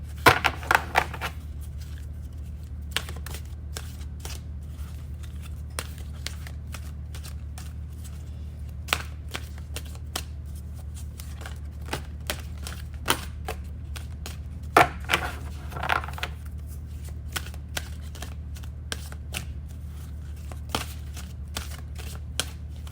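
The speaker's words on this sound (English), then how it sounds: "It's kind of hard to shuffle this one." Soul Journeys oracle card deck being shuffled by hand, a long run of soft papery riffles and taps, some bursts louder and nearer, over a steady low hum with no talking.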